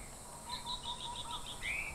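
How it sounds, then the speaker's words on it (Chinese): Several bird species sing in a coastal forest, a series of quiet repeated chirps and a sweeping whistle over a soft, steady background hiss. "这几种鸟在叫。"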